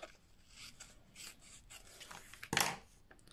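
Soft rubbing and scraping sounds come in short strokes, followed by one sharper crisp snip as the edge is trimmed off a strip of paper at a papercraft desk. The sounds are close and quiet.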